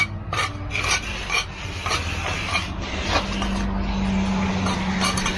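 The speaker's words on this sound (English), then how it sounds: "we'll broom it and hit it with a 4-inch edger, match the old existing walk." A 4-inch edger scraping along the edge of a freshly poured concrete walk on a hot day, a loud continuous gritty rasp with rhythmic strokes and a faint steady hum underneath, up close and without voices.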